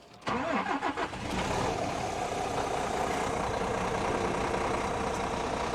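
A Scania S500 truck with about 827,866 km on it starts with a short crank, then catches into a loud, steady diesel idle that continues to the end.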